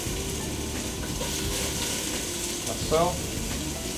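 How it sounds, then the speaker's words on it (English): Vegetables sauté in olive oil in a pan with a constant bright sizzle, a brief clatter near the end as they are stirred, and someone speaking briefly over it. "it's time for our vegetables to be sauteed before we put the quinoa in"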